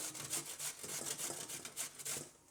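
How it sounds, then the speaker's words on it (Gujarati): Potatoes grated into coarse shreds on a hand grater in a home kitchen, heard as a steady run of rasping, scraping strokes repeating every half second or so, close and fairly quiet with no talk. "તો આ રીતનું આપણે બટેટાને છીણી લેવું"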